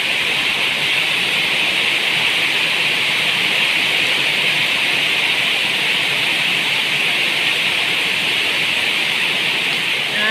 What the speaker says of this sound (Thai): ฝนตกแรงแล้วลูก